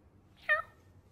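A cat gives a single short, clear meow in the middle of an otherwise quiet moment.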